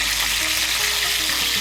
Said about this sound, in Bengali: নুন আর হলুদের গুঁড়োটাকে মিশিয়ে নিয়ে পটলগুলোকে লাল করে ভেজে নেব।